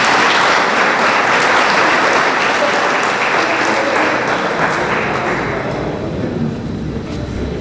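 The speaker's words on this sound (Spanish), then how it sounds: "Un aplauso para ella, por favor." Loud, full applause from an audience at a book presentation, a thick continuous roar of clapping that gradually softens near the close.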